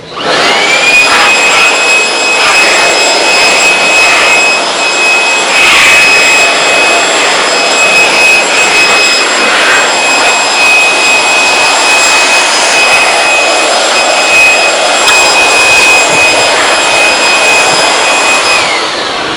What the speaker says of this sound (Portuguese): E você vai utilizar basicamente jogando o ar na peça.